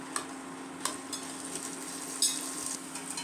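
Guntur and Byadgi dried red chilies fry in hot oil with a steady, close hiss. A few light metallic taps from stirring cut through the sizzle.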